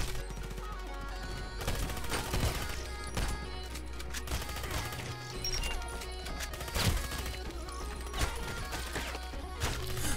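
Rapid bursts from a Kedr submachine gun in the game Contract Wars, with fast automatic fire broken by pauses and mechanical clicks of reloading over a steady game background.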